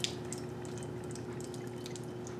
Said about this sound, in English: But when we pour the water over it, you're going to see that Mr. Selt's a little magic here.